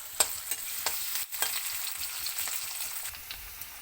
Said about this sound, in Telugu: వెజిటేబుల్స్లన్నీ కట్ చేసి వేసుకుంటామండి. అవి కొంచెం వేగాలండి.